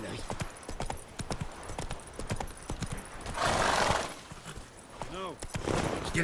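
Horse hooves clip-clop at a gallop in The Witcher 3 on PS5, a steady rhythmic patter near and fairly loud, with a brief whinny partway through and short game sounds and speech around it.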